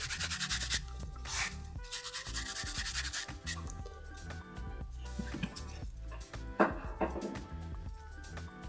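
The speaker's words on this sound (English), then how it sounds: "Let's dust off the excess." A brush dusts excess acrylic powder off a nail, producing soft, repeated scratchy rubbing strokes, close and quiet, with intermittent ticks and handling noises in between.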